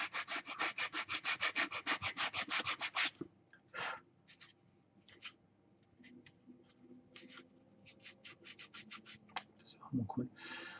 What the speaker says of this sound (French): On va quand même poncer un petit peu.